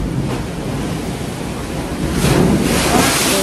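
Sea waves rolling and washing close by, a loud continuous broadband surge with wind buffeting the microphone, swelling stronger toward the end.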